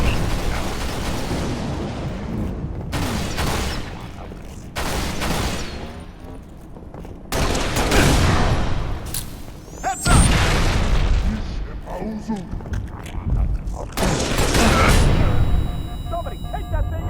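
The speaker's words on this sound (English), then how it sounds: "Live grenade!" Grenade explosions and gunfire in the Halo: Reach campaign, a series of loud booms and blasts over constant battle noise, with in-game voices shouting between detonations.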